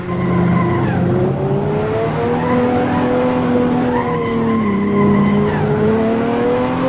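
A mid-tier race car in Assetto Corsa, engine climbing and dropping with throttle inputs while the tires skid and squeal through corners, steady and close with no talk over it.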